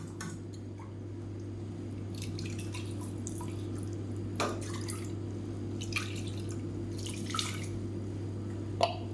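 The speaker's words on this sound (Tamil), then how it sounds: "இதில் கொஞ்சமாக தண்ணி விட்டு அலசிட்டு அந்த தண்ணியும் சேர்த்துக்கலாம்" Water trickling and dripping into a cooker holding ground rice, in a home kitchen: sparse, close splashes and drips over a steady low electrical hum, with no talk.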